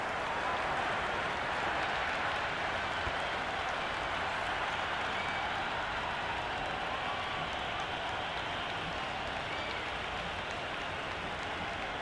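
Cricket crowd applauding in the video game Cricket 26 during a Pakistan versus New Zealand match, a dense, steady roar of clapping that fills the whole stretch without letting up.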